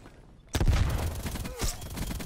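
Stoner 63 light machine gun in Call of Duty: Cold War, firing through walls: a sudden loud burst of rapid in-game gunfire starts after a brief quiet moment and keeps rattling densely to the end.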